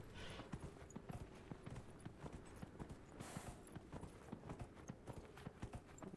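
Steady clip-clop of horse hooves at a trotting pace in Dragon Age: Inquisition, moderately loud over a busy background wash.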